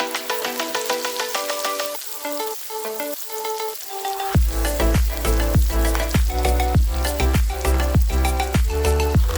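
Sliced white scallion pieces drop into hot butter in a pot and burst into loud, crackling sizzle, after a quieter stretch of rhythmic stirring or tapping, close and without talk.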